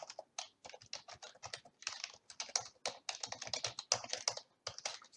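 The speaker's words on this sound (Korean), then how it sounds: "키보드로부터 입력을 기다리고 있고 홍길동이라고 입력했죠" Someone types on a computer keyboard while entering input for a simple Python program, producing quick, uneven bursts of close, crisp key clicks with short pauses between them and no voices.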